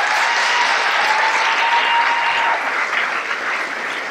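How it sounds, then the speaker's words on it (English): Audience at a 33rd Ward aldermanic candidate forum applauds after opening statements, a dense, even wash of clapping held steady for about four seconds before easing slightly at the end. "we appreciate you applauding here after these opening statements"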